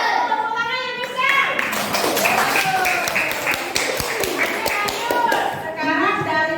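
Children in a classroom clap together for a group that answered correctly in a lesson on changes of state, a lively, uneven patter of small hands with kids' voices chattering over it.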